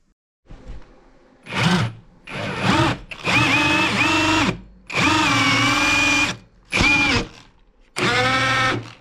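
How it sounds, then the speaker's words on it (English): A power drill whirs through wood while drilling a hole for a heavy-duty workbench, in several bursts, revving up and down between short pauses, close and fairly loud. "finish our hole through this one because our drill bit only goes so far"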